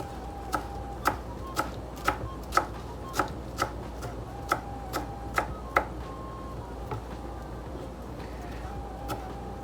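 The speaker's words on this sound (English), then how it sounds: "or they'll just throw handfuls of the basil in their sauce. I like to give it just a little rough chop." A knife rough-chopping fresh basil leaves on a cutting board, a series of crisp regular taps at a steady pace, fairly close, trailing off into a few softer cuts over low background hum.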